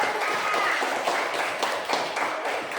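A room full of people claps steadily in a dense, continuous applause that fades slightly toward the end.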